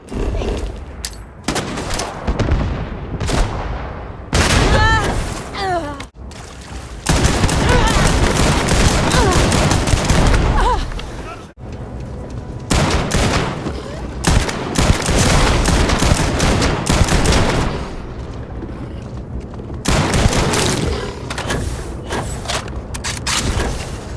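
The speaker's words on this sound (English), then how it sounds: "Just shoot everything!" Heavy gunfire rattles through a firefight in Starfield, with dense bursts of automatic shots, booms and thuds filling long stretches, broken by brief pauses and shouted voices mixed in.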